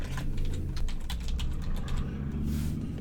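Rapid clatter of keys on a computer keyboard, typing a search term, close and steady over about three seconds with a low background hum.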